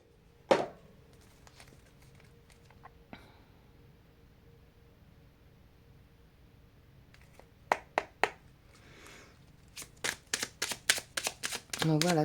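Tarot and oracle cards shuffled in quick papery flutters, a sharp tap near the start, then clustered bursts of riffling that grow denser toward the end, close and fairly quiet.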